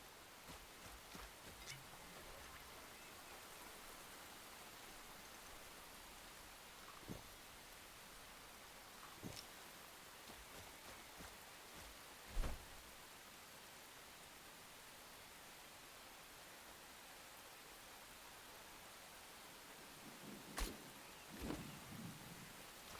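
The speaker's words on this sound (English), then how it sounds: "No way is it raining." Steady hiss of rain falling in a video game, soft and even, broken by a few brief louder splashes or thumps.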